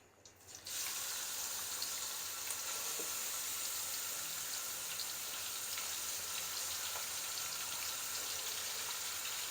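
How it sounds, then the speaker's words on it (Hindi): Finely chopped medium onions sizzle steadily in a pan for kadhi pakora, a dense, even frying hiss that starts abruptly and holds loud and close throughout, with no voices. "थोड़ा सा फ्राई करेंगे इसको।"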